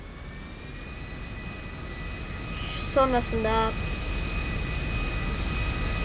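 Airplane engine in GTA V, a steady jet drone running continuously at even loudness, with someone briefly speaking over it partway through.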